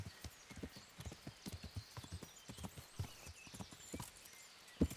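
Horse hooves clip-clop in a steady, close walking rhythm in the medieval game Kingdom Come: Deliverance, each hoofbeat a distinct, fairly loud knock, with no one talking.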